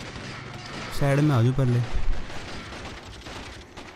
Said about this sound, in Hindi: कहाँ से बज रही गोली मेरे को?